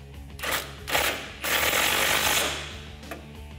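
A socket wrench with a 15 mm socket ratchets a fog light bracket bolt tight on a 2017-2019 Ford Super Duty, with several close, loud bursts of rapid clicking separated by short pauses.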